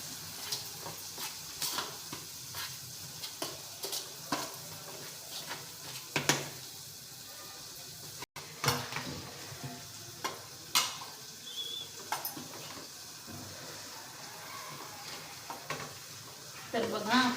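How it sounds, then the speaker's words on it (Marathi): Samosa dough for gobi samosa being rubbed and mixed by hand with oil in a bowl, giving soft repeated scraping, squishing and stirring sounds at close range, with occasional sharper knocks against the bowl. "हे छान मिक्स करून घेऊया।"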